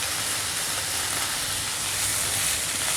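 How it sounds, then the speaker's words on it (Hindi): Chicken pieces and chopped garlic fry in a pan over a medium flame, giving a loud, steady, dense sizzle that fills the whole stretch without pause and with no voices. "2 से 3 मिनट हम लहसुन के साथ चिकन को भी फ्राई करेंगे"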